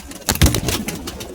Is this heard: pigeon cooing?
yes